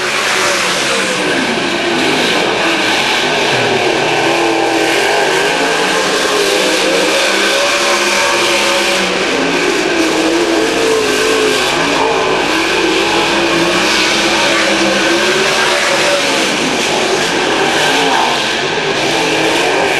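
Sprint cars racing on a track under green flag, a loud continuous roar of engines revving and surging for the whole stretch, with no talk over it.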